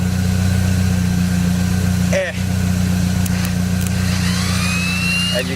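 Saab 9-3 starter motor spinning without engaging the engine, a steady loud mechanical whir with a hum beneath it, broken by a short dip and a few clicks partway through.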